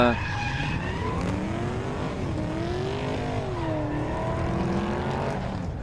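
A heavy drift car slides at a French Drift Championship round at Val d'Argenton, with a long wavering tire squeal over a steady engine roar, loud and continuous, with voices talking underneath.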